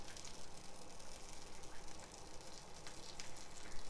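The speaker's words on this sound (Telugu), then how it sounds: "నేను ఇప్పుడు ఆయిల్ వేసేసి శనగపప్పు, మినపప్పు, ఆవాలు, జీలకర్ర, కరివేపాకు అవన్నీ వేసేసి తాలింపు పెట్టుకున్నాను" Chana dal, urad dal, mustard seeds, cumin and curry leaves sizzle in hot oil for a South Indian tempering, a steady, faint crackling hiss with fine popping throughout.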